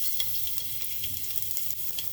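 Chopped garlic frying in hot oil makes a continuous bright sizzle with light crackles popping through, steady and close for the whole stretch.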